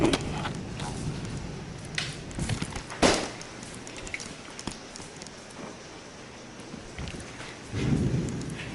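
Thunder rumbles from a storm amid steady rain, low rolling booms with a sharper crack near the middle and another swell toward the end, heard from indoors with small clatters nearby.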